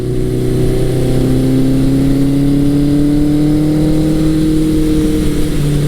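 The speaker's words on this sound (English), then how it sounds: "just letting me enjoy the sound of that big 4-cylinder motor" 1983 Suzuki GS1100 four-cylinder motorcycle with a 4-into-1 Delkevic exhaust, warmed up and running steadily: a close, loud, smooth hum whose pitch creeps slightly upward, alone without speech.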